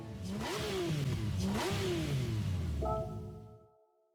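An M97 911 engine rated at 788 horsepower in Gran Turismo 7 revs up twice in rising sweeps, then settles and fades out under a lingering tonal hum, loud and close with no talk.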